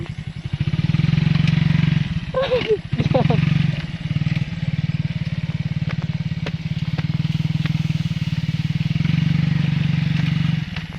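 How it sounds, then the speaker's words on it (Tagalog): A motorcycle rides over a rough, dangerous road, its engine droning steadily and loud throughout, with clattering knocks and jolts around the middle and a voice talking briefly. "Kawawa ang motor ko."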